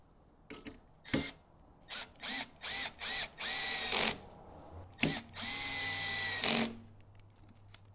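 Cordless power drill driving screws into an RC car ramp, several bursts of rising whine with a ratcheting clutch, close and loud, separated by short pauses.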